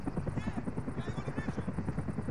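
A helicopter in a military shooter video game keeps up a steady, loud, rhythmic rotor chop for the whole stretch, with no pause in the beat.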